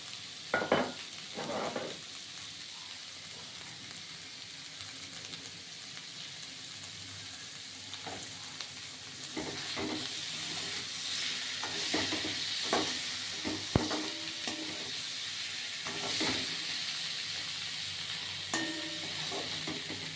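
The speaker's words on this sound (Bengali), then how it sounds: "এটা আস্তে আস্তে ভাজা হবে" Boiled potatoes fry in hot oil for Bengali pea ghugni. A steady sizzle and hiss runs throughout, broken by scattered scrapes and clinks as a spoon stirs the pan.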